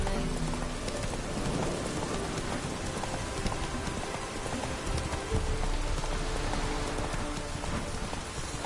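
Roach, a horse in The Witcher 3 video game, runs through rain with steady clip-clop hoofbeats under a constant wash of rainfall, loud and continuous throughout.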